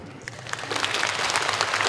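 Audience applause at a folk-vocal masterclass concert, a dense wash of clapping that builds from moderate to full and holds steady, with no voices over it.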